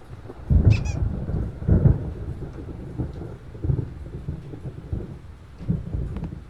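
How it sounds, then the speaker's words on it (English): Thunderstorm in the 2010 video game Alan Wake, deep rolling thunder rumbles swelling every second or so over a steady bed of rain, close and fairly loud, with no talking. "There's a storm coming. Oh, what a storm."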